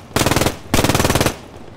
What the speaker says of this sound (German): Von 44 ist gerade der MG-Tracer reingeflogen.